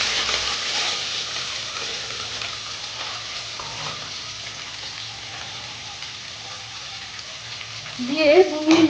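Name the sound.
chopped onions frying and being stirred in a pan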